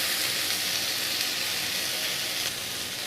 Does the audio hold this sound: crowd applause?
no